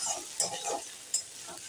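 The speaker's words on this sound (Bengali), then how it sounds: "দিয়ে একটু 10 থেকে 15 সেকেন্ড মতো ভেজে নিতে হবে, যাতে কাঁচা গন্ধটা না থাকে" Crushed green chillies fry in a pan for Bengali singara filling, a soft close sizzle broken by a few quick scraping strokes of stirring.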